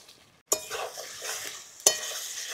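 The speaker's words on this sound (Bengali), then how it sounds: "এবার দিয়ে দেবো ভেজে রাখা আলু।" Fried potatoes hit hot spiced oil with tomato and ground spice paste for a spicy katla fish head kosha, two sharp sizzling bursts as they drop in, then steady frying and stirring scrapes close by.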